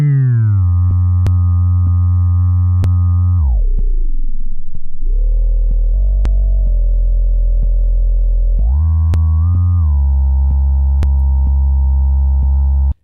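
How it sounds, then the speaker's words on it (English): A nasal hummed note looped through a Boss RC-505 vinyl flick effect, a steady buzzy drone that swoops down in pitch to a warbling low rumble and then glides back up, with faint periodic clicks throughout. "I can record me just going just a nose, just making a humming note out of my nose, and then I can go over here to vinyl flick"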